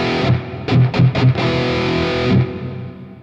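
A distorted metal electric guitar played through Tonocracy amp modelling with a large hall reverb: a few heavy chord stabs and a sustained chord, then a long, spacious reverb tail fading out. No voices.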